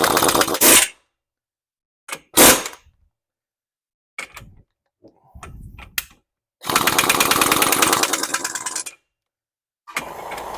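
An air hammer works on a bearing nut in short bursts: a couple of quick blasts, then a sustained run of about two seconds, separated by silences, loud and close.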